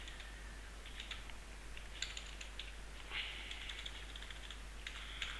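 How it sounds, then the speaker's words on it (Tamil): Quiet, rapid keystrokes on a computer keyboard while entering a company address into accounting software, a faint run of clicks in uneven bursts over a low background hum. "so I type the company address here"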